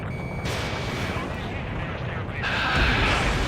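Anti-aircraft gunfire in the video game Ace Combat 7 rolls as a dense, continuous rumble of rapid fire, loud and sustained, swelling even heavier toward the end.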